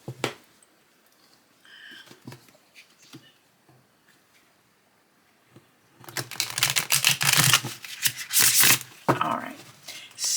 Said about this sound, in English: When I can do a good riffle shuffle,